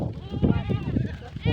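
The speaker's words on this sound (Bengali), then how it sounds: "কত ছাগল দেখুন, উন্নত মানের ছাগল এগুলো" Village goats of a fine breed bleat several times in quick succession, close and wavering, while a person talks over them.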